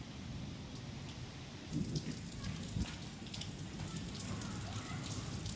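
Steady rain pours down on an open outdoor spot in Punjab during the season's first monsoon shower, a dense even hiss with a few louder spattering drops, close and continuous with no voices.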